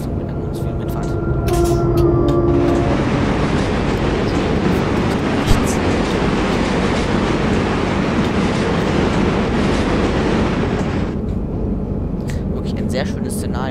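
A BR 243 electric locomotive pulling an express train in Train Simulator 2014 runs with a loud, steady rushing rumble of wheels and motors for about eight seconds, framed by quieter cab sounds before and after.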